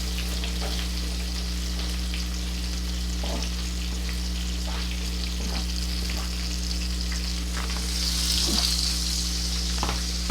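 Garlic with chopped red and yellow onions sizzling in a hot pan for shrimp tacos, a steady frying hiss over an electrical hum, with occasional stirring taps and crackles.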